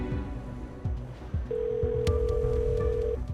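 A phone call is placed and a steady ringback tone sounds after dialing clicks, heard over low background music.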